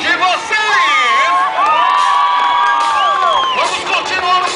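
A large crowd at an outdoor motorcycle stunt show cheers and whoops loudly and continuously, with shrill, overlapping shouts rising and falling near the microphone.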